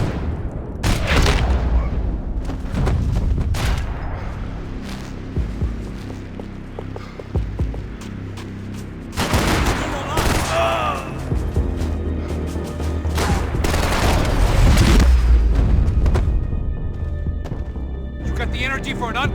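Gunfire in a chaotic Max Payne 3 shootout, loud booming shots and bursts mixed with shouting voices over a throbbing low hum.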